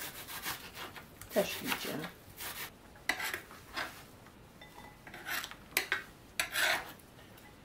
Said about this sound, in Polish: teraz możemy również na taką drobniutką kosteczkę kroić tą cebulę